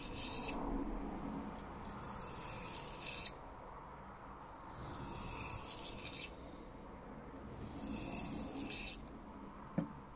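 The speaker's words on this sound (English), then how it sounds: "Trying to make sure it contacts the stone evenly, and just using a little bit of pressure just to keep it evenly on the stone." A knife blade is stroked across a Lidl Parkside sharpening stone in a slow, repeating rhythm, each pass a soft, close gritty rasp with quiet gaps between strokes.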